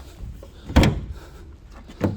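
The magnet-held rear door of a grey commercial van is worked, giving one solid thud followed by a second lighter knock, heard close by with no speech.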